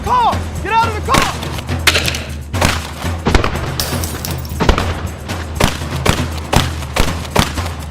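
Shotgun gunfire during a dynamic shooting drill, a rapid run of loud, sharp blasts and thuds, some close together and some spaced, with faint voices in between.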